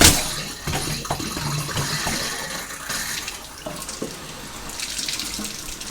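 Water gushes from newly plumbed hot water pipework fed through a hose, a steady splashing stream close by that eases slightly partway through and then continues.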